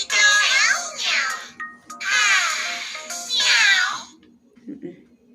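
A cat gives three long, drawn-out meows in close succession, loud and near, followed by faint babbling.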